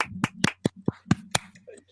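Hands clap as applause for a guest in an interview setting, a handful of sharp, close, separate claps in an uneven rhythm with speech in between.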